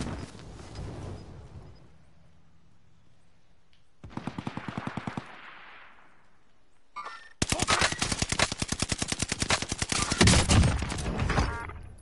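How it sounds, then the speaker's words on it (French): Gunfire in an online shooter: a brief burst of rapid shots, then a longer, loud, dense volley of rapid fire that carries on with no talk. "j'ai manqué toutes mes balles de sniper"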